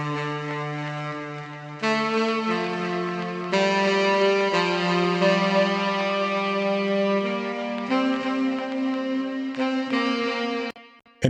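Saxophone processed with Valhalla Supermassive reverb and Cymatics Origin crackle effects, playing a slow melodic line of sustained notes with a washed, lingering tail, alone and fairly loud.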